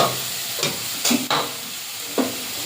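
A ginger, cumin and coriander paste sizzles and spatters in a hot pan with fried onions, loud and close, with several sharp stirring scrapes breaking the steady frying hiss.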